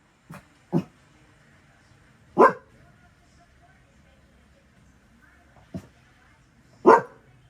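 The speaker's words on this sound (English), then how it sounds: "We're dog sitting." Two house dogs barking from nearby, five short separate barks spaced irregularly over quiet background, a couple louder and fuller than the others.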